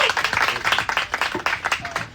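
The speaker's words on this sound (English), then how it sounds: "give him a round of applause" Brief audience clapping after a speaker's introduction at a real estate event, a quick patter of hand claps that is loud and close for about two seconds.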